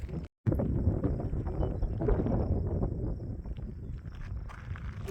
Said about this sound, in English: The wind on that brush, it's almost like someone's whispering.